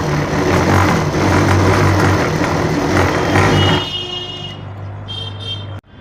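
A sewing machine stitches a ladies' coat collar with a steady, close mechanical whir for about four seconds, then drops to a quieter hum before stopping.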